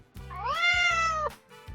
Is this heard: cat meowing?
yes